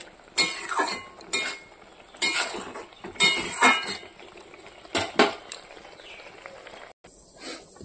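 Cooking pot lifted off a stove in a home kitchen, with a series of close metallic clanks and scrapes in uneven bursts and short pauses between them.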